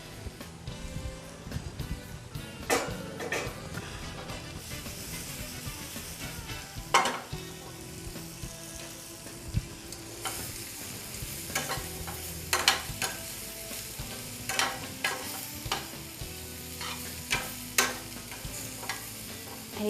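Mixed vegetables sizzling and frying in a pan while being stirred, with steady broadband sizzle and repeated clattering scrapes of a utensil against the pan throughout, no talking.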